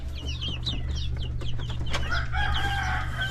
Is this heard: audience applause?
no